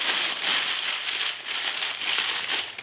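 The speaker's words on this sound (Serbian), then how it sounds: "1 papir za pečenje, prvo ću zgužvati" A sheet of baking paper is crumpled by hand at close range, giving a steady, dense crinkling that swells and eases in a few bursts over about three seconds, with no voices.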